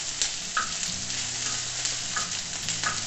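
Six chopped garlic cloves fry on a plough disc while being stirred, with a steady close sizzle and scraping spatula strokes, no voices.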